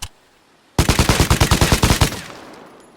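An LMG firing in the video game Vigor, a loud rapid burst of about fifteen evenly spaced shots after a brief silence, ending in a fading reverberant tail.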